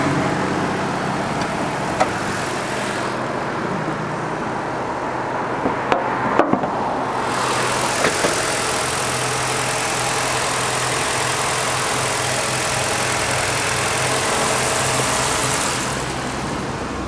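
A 2014 Nissan Juke engine idles under the open hood with a steady, even mid-pitched drone. A few clunks and a shift in the hiss partway through suggest the hood being raised.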